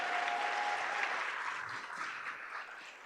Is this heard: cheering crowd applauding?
yes